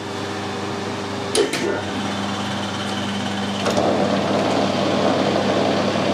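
A metal lathe runs in reverse with a steady mechanical hum, a couple of brief clicks and knocks near the start and another around the middle, with no talk.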